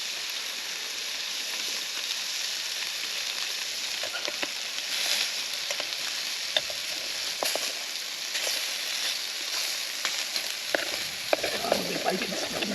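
Bacon frying in a pan at a camp cooks with a steady, close sizzle and crackle, occasional pops and stirring sounds, and no talk.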